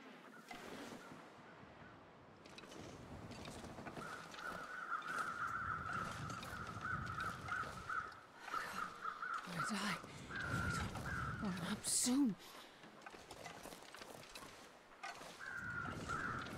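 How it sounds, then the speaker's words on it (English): Crows caw repeatedly in the snowy wilderness of the survival game The Long Dark, the calls steady and moderately distant over wind noise, with someone talking over much of it. "I hear bears or bear crows"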